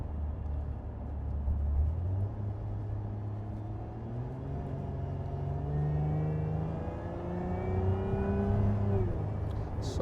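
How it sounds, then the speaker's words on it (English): A 2024 Lotus Emira First Edition revs up and down through gear changes, rev-matching on downshifts, with rising and falling harmonic sweeps and a quick blip near the end; steady, fairly close, no talking. "You can hear the matching of the revs."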